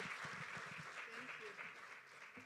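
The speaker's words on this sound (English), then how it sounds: "A big round of applause for Mrs. Ingabire Assumpta." A crowd at a formal campaign launch ceremony gives a round of applause, a soft, steady wash of clapping heard faint and distant for a couple of seconds, with a voice murmuring underneath.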